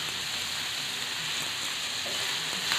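Cooked shrimp paste (bagoong) sizzling in a pan while being stirred makes a continuous, even frying hiss, close and steady throughout, with a faint scrape near the end.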